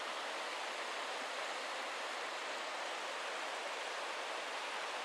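A river rushing down through Johnston Canyon in Banff National Park: a steady, dense roar of flowing water, close and continuous with no breaks, and no voices over it.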